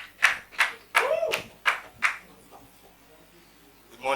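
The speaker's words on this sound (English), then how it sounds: "Can we clap for him?" Five or six separate, sharp claps ring out at an even pace at a networking talk, with a brief voice among them, then quiet, and one more clap at the very end.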